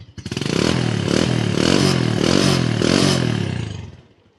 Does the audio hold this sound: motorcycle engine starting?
yes